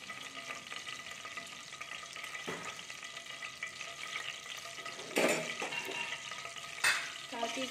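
White cumin seeds sizzling in hot oil in a pot, a steady close hiss with a couple of louder bursts of crackle as the oil is stirred.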